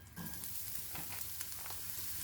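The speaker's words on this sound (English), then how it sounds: "I've added 1 small finely chopped onions. I'm going to saute this." Finely chopped onion sautéing in a pan with bay leaf and peppercorns, giving a steady, moderate sizzle with faint crackles and light stirring, no talking.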